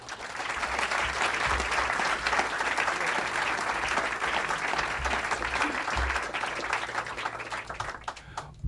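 Audience applause welcoming economist Joseph Stiglitz at the Politics and Prose bookstore, dense steady clapping from a sizeable indoor crowd lasting several seconds and tapering slightly at the end.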